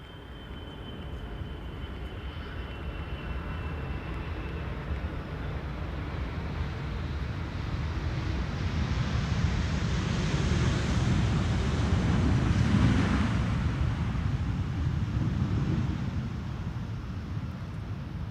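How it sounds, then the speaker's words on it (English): A BA CityFlyer airliner arriving from London City lands at Amsterdam's runway 18R. A broad, roaring jet rumble swells steadily to a loud peak near the end and then starts to ease. "BA City Flyer, arriving from London City."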